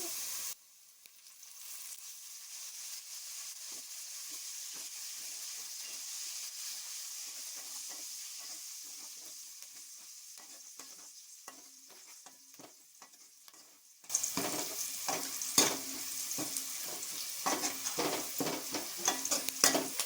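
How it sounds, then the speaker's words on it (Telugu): Curry leaves go into golden fried onions for a mushroom curry. Light ticking and stirring crackles sit over a quiet hiss, then the pan bursts into a much louder, dense sizzle for the final stretch, with no talking. "ఉల్లిపాయలు ఈ విధంగా గోల్డ్ కలర్ వచ్చిన తర్వాత కరివేపాకు వేసుకోవాలి."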